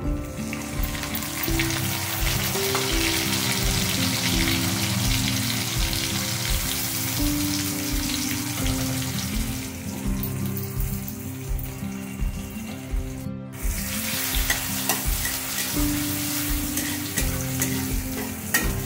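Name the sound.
garlic paste and onion frying in a pan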